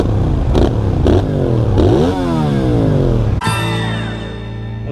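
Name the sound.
motorcycle engine revving on a race circuit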